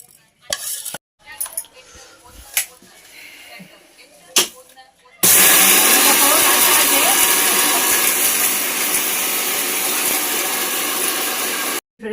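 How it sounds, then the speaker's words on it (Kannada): A mixer grinder grinds roasted chillies, coriander, cinnamon and cloves into spice powder for avare bele sambar. A few soft clicks and knocks come first, then the motor starts with a loud, steady whirring roar for about seven seconds before cutting off. "ಮಿಕ್ಸಿಗೆ ಹಾಕಿ ಪೌಡ್ರ್ ಮಾಡ್ಕೊತೀನಿ."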